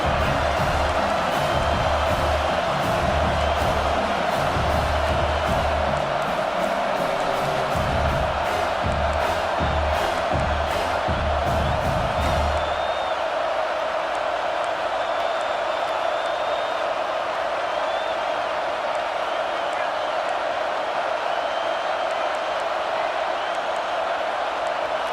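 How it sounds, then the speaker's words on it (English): A packed stadium crowd roars at a Badgers football game, a loud sustained din with rhythmic pounding and chanting for the first half before settling into a steady wash of noise. "with this place rocking, the crowd forces a false start"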